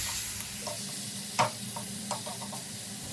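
Onions and tomatoes sizzling in a pan: a steady close crackle, with soft scraping taps as the utensil stirs through them.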